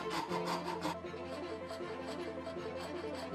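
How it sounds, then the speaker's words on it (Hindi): A hand saw cuts through a wooden piece clamped in a vise, producing steady rasping, rubbing strokes that run continuously, with a few sharper, quicker strokes at the start. "फिर हमने इसे भी शिकंजे में फंसाकर आरी से काट लिया"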